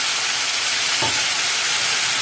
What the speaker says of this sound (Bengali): এবার সব একসাথে ভালো করে কষে নেবো